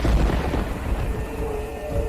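A cartoon thunderstorm, heavy low rumbling thunder and a dense wash of rain and wind, loud and continuous throughout the short stretch.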